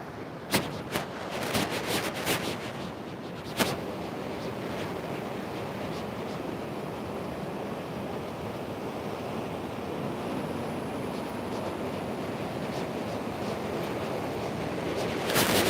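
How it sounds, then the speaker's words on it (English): Ocean waves wash steadily onto the shore at an oceanfront yoga session, a continuous close surf roar with wind buffeting the microphone and a few sharp knocks near the start. "Take a second to just soak up the sound of the ocean."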